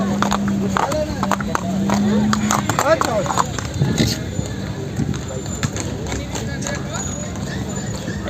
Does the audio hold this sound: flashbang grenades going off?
no